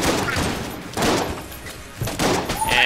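Dual-wielded shotguns blast repeatedly in the video game Enter the Gungeon, loud bursts of gunfire recurring about once a second, with bright impact and pickup effects near the end.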